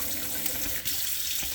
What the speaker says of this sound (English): Different settings for your sprayer. It does come out, move it around, in good condition.